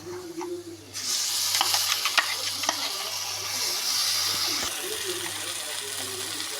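Ground paste of garlic, ginger, fennel, curry leaves and coriander leaves being added and stirred into chicken frying in a pan, a loud steady sizzle with scraping stirs and a constant low hum underneath.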